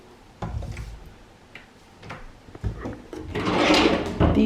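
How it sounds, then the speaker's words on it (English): A deep kitchen drawer in an apartment slides open and shut, giving several short wooden knocks and clunks with a scraping rush, fairly close and moderately quiet. "Deep drawers."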